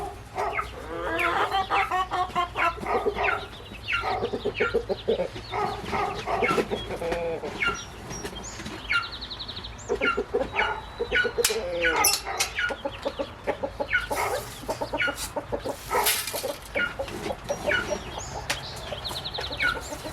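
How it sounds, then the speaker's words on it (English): A farm flock of chickens at feeding time clucks and squawks busily and continuously, close and loud, with overlapping calls and an occasional rooster-like crow. "let's feed the chickens first"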